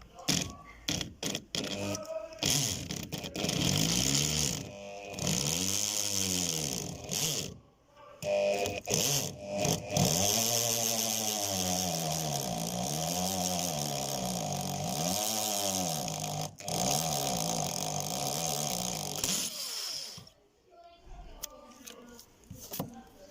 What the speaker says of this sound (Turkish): yavaş bir şekilde delmeye çalışacağız